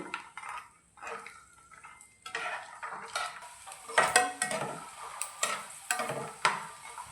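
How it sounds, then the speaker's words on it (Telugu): A handful of peanuts fry in a spoonful of oil in a pan, with a light sizzle under repeated clinking and scraping as a spoon stirs them, growing busier toward the end. "ఆయిల్ వేడయ్యాక గుప్పెడు పల్లీలు వేసుకోవాలి వీటిని ఆయిల్లో వేయించుకోవాలి"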